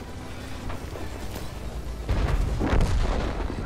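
A tank in World of Tanks, an SU-100M1 on the Minsk South map, takes a shell hit, heard as a heavy, close booming impact with a rumbling burst that follows under steady engine noise.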